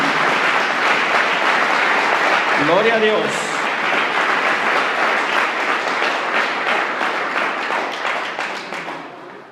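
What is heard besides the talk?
congregation applauding in church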